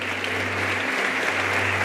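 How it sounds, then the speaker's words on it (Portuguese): Dense, loud applause from a church congregation, a continuous wash of clapping with a low steady hum underneath, sustained evenly for under two seconds. "dê um aplauso a ele"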